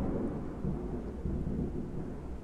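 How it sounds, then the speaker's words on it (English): Hard thunder outside during a Roblox Apocalypse Rising session, a steady low rumble with rain-like wash that fills the whole stretch without any talk over it. "it thundered really hard outside"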